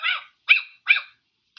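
A girl imitates a dog, giving three short, high, yipping barks evenly spaced and close, with brief silence between them and the start of a fourth at the end.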